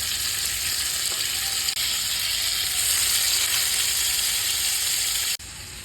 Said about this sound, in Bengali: একটু ভেজে নিলাম মাছগুলো